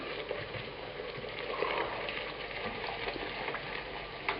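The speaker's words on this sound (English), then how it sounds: "I'm going to add the wine. And this will help deglaze it too." Wine poured into a pan of tomato sauce for puttanesca hisses and bubbles in a steady, even sizzle while the pan bottom is deglazed, with faint stirring scrapes underneath.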